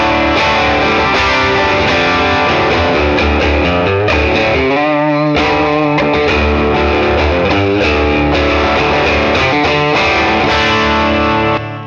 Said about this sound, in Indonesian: Ada noise sedikit, overdrive nyala,